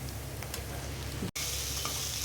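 Okra and onions frying in a pan while being stirred, making a dense, continuous close-up sizzle with a faint scraping texture and one brief dropout partway through.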